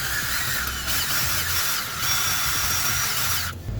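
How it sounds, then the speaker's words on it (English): A power-driven wire brush scouring the inside of an injector cup bore on a 2002 Ford F250 with the 7.3 Powerstroke diesel, a continuous close whirring grind that shifts pitch slightly and stops abruptly near the end. "we're going to take this wire brush right here, and I'm going to clean the inside of this hole where the contact surfaces are"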